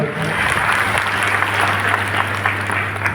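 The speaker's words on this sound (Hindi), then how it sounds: "इनके लिए जोरदार तालियों से स्वागत करेंगे" A crowd at a community conference applauds to welcome the chief guest, the city's mayor, with steady, dense clapping over a constant low hum from the PA system.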